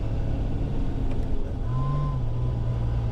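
Engine of a 1000 hp single-turbo BMW E90 335 with DCT gearbox blipping on a downshift, a short rising rev swell over steady in-car engine drone, close and fairly loud.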